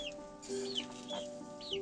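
Hens cluck softly while foraging in a farmyard some distance from the coop, a few short calls and rising chirps at moderate distance over low background noise.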